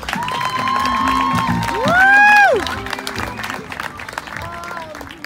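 Audience applause and cheering at a quinceañera party, a steady wash of clapping with shouts rising over it, swelling loudest around the middle, while tones from a sound system and a voice carry through.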